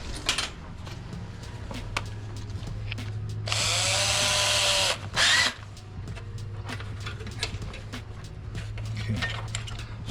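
Close, loud power drill whirring in two short bursts during an air compressor repair, with scattered clinks and tool handling around it and no talking.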